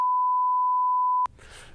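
A single steady censor beep tone runs for just over a second to mask a spoken card number during a podcast, then cuts off into faint room noise.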